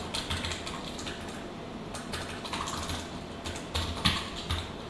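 Computer keyboard typing as JavaScript code is written, a run of quiet, irregular clicky keystrokes close to the microphone, with a few louder taps near the end.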